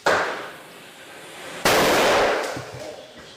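Real firecrackers going off during a neighborhood firework war, with a sharp crack at the start and a louder burst midway that rings out before tapering, followed by smaller pops.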